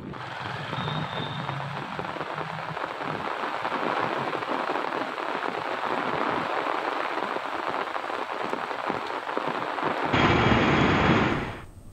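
Steady rain falls in Telangana's Asifabad, Khammam and Adilabad region, a dense continuous hiss of drops on surfaces, moderately loud and unbroken, swelling sharply louder near the end before cutting off.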